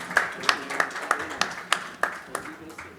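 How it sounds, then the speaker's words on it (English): Steady, evenly spaced handclaps from an audience thanking a panel of speakers at an industry event, close and crisp, about three per second over a faint room murmur. "let's give them a big, big round of applause,"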